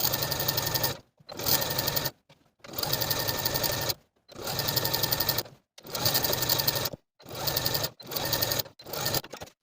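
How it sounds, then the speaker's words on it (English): A sewing machine runs a second row of stitching around a sweater dress hemband in steady loud bursts, seven runs separated by short silent pauses, with no talking. "I'm going to do a second row of stitching all the way around"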